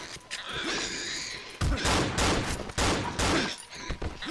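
Rapid bursts of gunfire from the horror video game Cry of Fear, with loud, dense volleys of shots in several clusters, separated by brief gaps.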